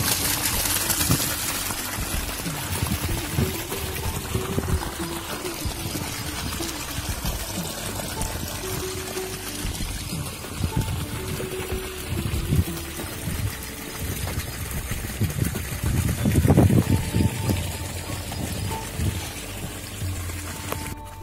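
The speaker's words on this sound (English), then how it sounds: "Irrigating to rice" Water pouring steadily into a rice field for irrigation, a continuous rushing trickle heard close up throughout, with a faint low hum underneath.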